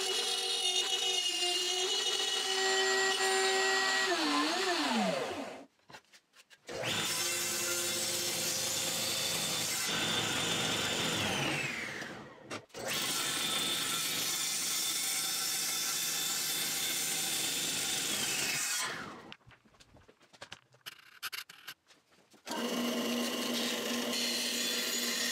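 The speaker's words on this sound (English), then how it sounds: "There has to be a 1/4 inch slot milled right through here. So while it's still all square, I'm going to do that now on the router table." Router table milling a 1/4 inch slot through square wood stock for a slot mortiser build, a loud sustained whirring cut in three long passes separated by brief quiet gaps as the motor spins down and restarts.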